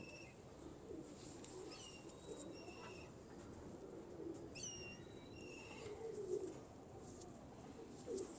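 Racing pigeons coo softly in a low, steady murmur, with a few faint higher chirps scattered over a constant background hum.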